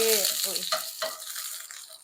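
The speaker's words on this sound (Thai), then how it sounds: "ก็ผัดกระเทียม" Sliced garlic stir-fried in a pan with a little oil for a Thai eggplant and minced pork dish, a steady close sizzle with scraping stir strokes early on, no talk.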